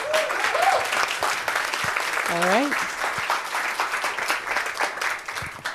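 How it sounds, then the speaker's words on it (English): Audience applause at a talk on collaborative game development, with dense steady clapping throughout, a brief spoken remark over it and a few whistles cutting through near the start and middle. "Please give a massive round of applause to Sarah and Will."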